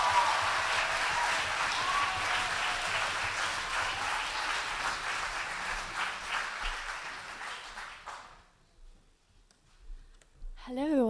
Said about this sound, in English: Please give a huge round of applause for Courtney Young.